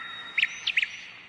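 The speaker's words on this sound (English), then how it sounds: "There was a blackbird in the tree. It sang a happy song." A blackbird sits in a tree and gives a few short, clear chirps in quick succession, bright and fairly close against a quiet background.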